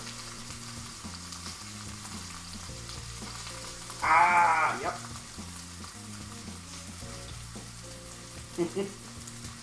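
Boiling oil sizzles and crackles steadily with a sudden louder burst of frying, set against quiet background music and a brief spoken reaction.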